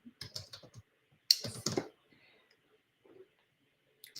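Lettering being typed on a computer keyboard, with irregular bursts of quick key clicks, close and clear, separated by pauses, with a faint voice murmuring briefly between the bursts.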